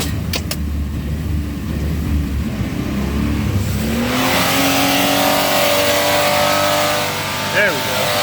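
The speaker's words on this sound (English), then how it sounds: "It's actually hitting the governor in first gear." A 3.4L Monte Carlo engine revs hard in first gear and bounces off the governor, a loud steady drone that jumps to a higher, rising whine partway through, with brief talk over it.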